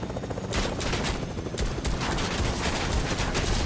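Rapid, dense gunfire in the video game Fortnite, a continuous loud burst of overlapping shots with no gaps, heard alone without talking.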